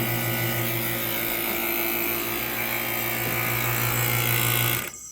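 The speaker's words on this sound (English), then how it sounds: "I have a vacuum pump just sitting around ready, available" A vacuum pump runs with a steady mechanical hum and low droning tone, working on a Toyota Solara's brake system, then cuts off abruptly near the end.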